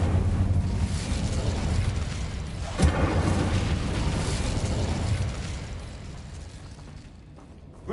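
An Incendio fire spell is cast in Hogwarts Legacy, a dense roaring whoosh with a sharp burst partway through, loud at first and then fading away over a few seconds.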